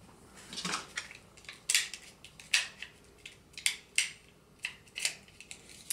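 A rotary cutter slices quilting fabric along a ruler for hexagon pieces, making a series of crisp, close scraping and crunching strokes roughly every half second to second, with no talking.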